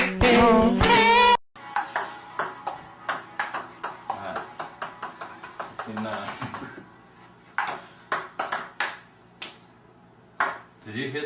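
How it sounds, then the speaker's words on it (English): A percussive beat matched to the Super Mario video game theme: sharp, ringing pings and claps tap out a steady rhythmic pattern after a brief burst of loud tonal sound, with occasional denser hits. "Did you hear the beat to Mario there?"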